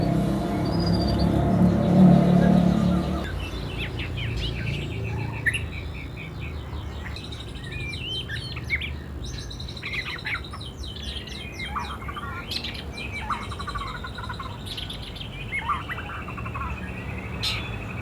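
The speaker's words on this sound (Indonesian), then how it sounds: "Ini kelihatannya masih muda burungnya" A young songbird at a roadside bird kiosk sings in bursts of quick bright chirps and trills, close and clear over steady street rumble that fades after the opening seconds.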